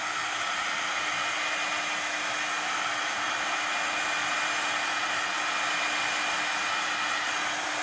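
A handheld heat tool blows a loud, steady whooshing roar as it dries salt-resist watercolor paper, continuous and close with no talking.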